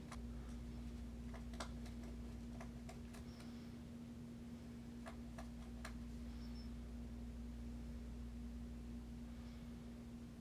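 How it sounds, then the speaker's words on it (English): A pet rabbit gnawing on a wooden log in a quiet room, faint scattered ticking chews and crunches over a steady electrical hum. "He's chewing on his log."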